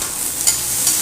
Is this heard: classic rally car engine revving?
no